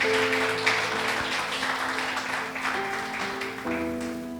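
A church congregation applauds together in a sustained, dense clatter of clapping that fades slightly over several seconds, with musical tones from instruments or sung notes held underneath.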